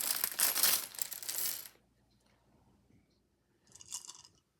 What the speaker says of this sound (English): Place the coins in a pile next to the board.